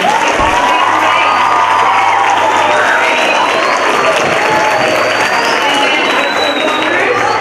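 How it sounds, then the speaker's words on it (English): Audience applause and cheering from a crowd after a stage performance, a loud sustained wash of clapping with some shouts, with voices talking over it. "So give yourselves a round of applause."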